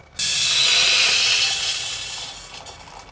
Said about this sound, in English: Let me pour some of this water